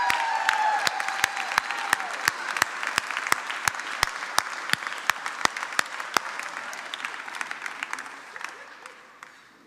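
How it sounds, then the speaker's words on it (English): An audience at a Small Business Week event at the Smithsonian American History museum claps steadily in a sustained round of applause that gradually tapers off. "Please, one more round of applause."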